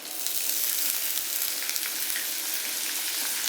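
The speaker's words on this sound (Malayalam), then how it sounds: "നമ്മുടെ എണ്ണ ചൂടായ ഉടനെ നമുക്ക് ഈ തക്കാളി ഇട്ടിട്ട് നന്നായിട്ടൊന്ന് ഗോൾഡൻ ബ്രൗൺ ആകുന്നവരെ നമുക്കൊന്ന് വഴറ്റിയെടുക്കണം" Tomatoes fry in hot oil in a pan with a steady, close, bright hiss of sizzling that continues throughout, without talking.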